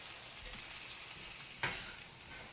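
Butter melts in a hot skillet with a soft, even sizzle, faint and steady, broken by one brief louder crackle.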